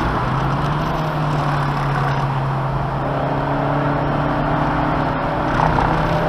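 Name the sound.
race car accelerating hard on the gas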